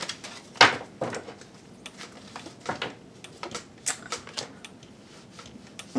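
Tarot cards handled and laid down on a table during a reading, a string of soft, sharp slaps and shuffles, one louder snap near the start followed by lighter, irregular taps, close by with no talk.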